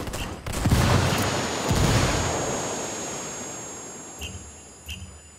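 Grenade blast and gunfire in the video game Ghost multiplayer, two heavy booming bursts early on that trail off into a long rumbling decay, then a few lighter distant pops near the end.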